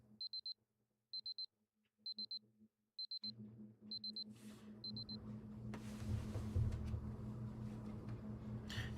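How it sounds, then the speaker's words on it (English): An alarm clock in Fate/Grand Order beeps in six evenly spaced bursts about a second apart, clear and fairly faint, before a broad rumbling ambience swells in and takes over. "I hear the sound of a very familiar alarm."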